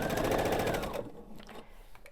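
A sewing machine runs in a rapid, even stitching burst along the raw edge of a quilted pillow backing, close and loud for about a second before stopping into quiet room noise.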